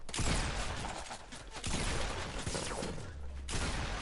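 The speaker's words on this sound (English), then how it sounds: "Keep flooding him with the nade launcher" A grenade launcher firing repeatedly in the video game Fortnite, a dense barrage of booming blasts and explosions layered over constant gameplay noise, loud and close, with no speech.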